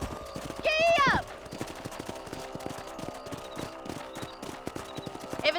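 Horse hooves clip-clop in a steady rapid rhythm while riding in the video game Red Dead Redemption, with a short whinny at the start and faint distant gunfire behind.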